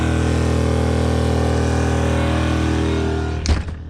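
A small inverter generator runs on propane, a steady, fairly loud engine drone with even hum, then a brief thump and rustle near the end.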